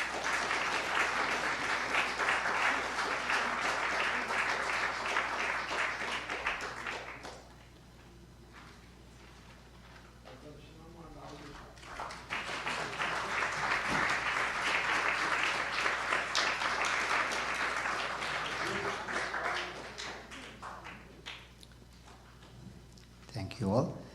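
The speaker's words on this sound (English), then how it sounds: "big round of applause to everyone who has involved in this book" Audience applause at a memorial observance for a swami, a long sustained burst of clapping that dies down briefly and then swells again, with voices talking faintly underneath.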